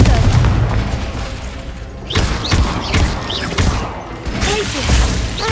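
Confringo blasting spell in a Harry Potter video game, a series of booming explosive thuds and impacts, several bursts over a few seconds with whooshing magic effects between them.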